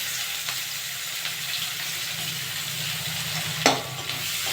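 Onions frying in a pan with cloves and cardamom, a steady moderate sizzle with soft stirring and one sharp scrape near the end, no speech.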